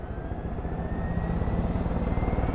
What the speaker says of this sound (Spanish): Me encanta llevar helicópteros, en serio, tío.